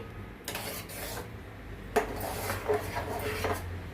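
Melting jaggery being stirred in a pot on the stove: irregular scrapes and clinks of a utensil against the metal pot, with a few sharper knocks over a low background hiss.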